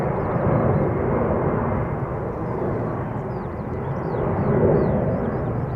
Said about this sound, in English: Heavy departure from center.